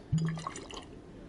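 Water pouring into a bottle being refilled in the survival climbing game Cairn, a short gurgling fill with a small splash at the start, quiet and close, then fading.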